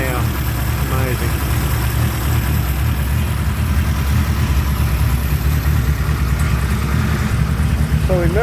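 A 1938 Baby Austin engine fitted with a baffled torpedo-style muffler idles steadily and continuously at close range, a low, even exhaust rumble with no breaks.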